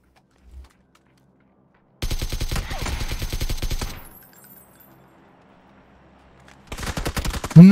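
Rapid automatic gunfire in PUBG, a dense two-second burst of shots followed by a quieter tail, then a second loud burst near the end, close and sharp with no talk.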